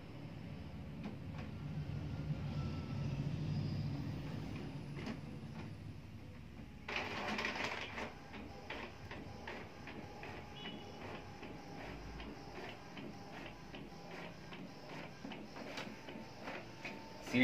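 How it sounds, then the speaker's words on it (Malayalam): A photocopier runs while copying a blank CD, giving a quiet, steady mechanical whir with rhythmic ticking and a brief louder scanning rush partway through. "CD സാധാ പോലെ തന്നെയാണ് പ്രിന്റ് ചെയ്യുന്നത്."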